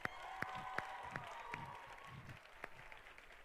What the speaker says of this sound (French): s'il vous plaît, applaudissez-la encore.